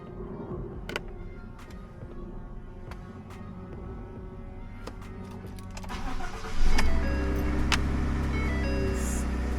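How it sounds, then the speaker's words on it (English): A truck engine cranks and catches around the middle, then settles into a steady low idle, heard close up inside the cab after some quiet clicks and handling noises. "Started up the truck here really quick."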